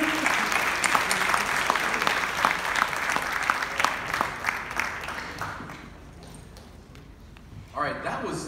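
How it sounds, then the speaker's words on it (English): A morning show audience gives a big round of applause for two guests, dense loud clapping that gradually thins and fades out after about six seconds, followed by a brief voice near the end. "we have a final huge round of applause for our two guests, Hassan and Heidi."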